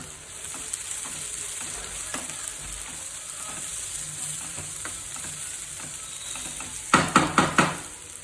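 Tindora with onions, salt and turmeric fries in a pan with a steady, close sizzle, and a quick run of metallic stirring clatters against the pan near the end.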